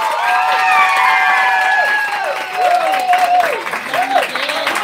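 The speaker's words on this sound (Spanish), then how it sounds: "recibimos con un fuerte aplauso a Don Mickey." A crowd cheers and applauds to welcome a guest, whistles and shouts riding over a continuous bed of clapping, lively and fairly loud.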